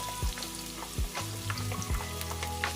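Garlic sautéing in a hot pan for a bitter melon and ground pork dish, a steady sizzle and frying hiss broken by three or four scraping stirs, close and alone.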